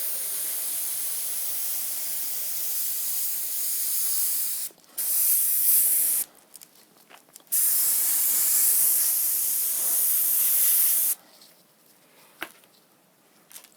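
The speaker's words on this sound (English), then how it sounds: "Alternatively, you could just spray" Airbrush spraying white Auto Air paint onto a Monster Energy logo design, a steady close hiss running in long bursts separated by brief pauses, then ending in quieter, sputtering short sprays.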